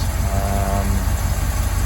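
A 360 V8 engine fitted with a 4-barrel carburetor runs steadily nearby, with a constant loud low rumble and no pauses or revving.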